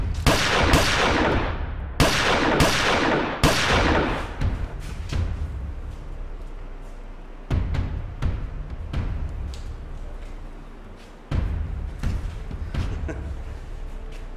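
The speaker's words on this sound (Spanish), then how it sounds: "Antes de que hayan escuchado los balazos y venga la policía." Several loud, echoing gunshots ring out in a 2018 Mexican action film, a rapid burst of four shots followed by scattered single blasts as the reverberation trails off.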